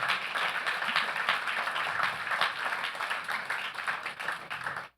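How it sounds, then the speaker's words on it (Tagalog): A church congregation claps loudly in a dense, continuous burst of applause for the Lord, holding steady before cutting off abruptly at the end. "Isang malakas nga po at buhay na palakpak para sa ating Panginoon"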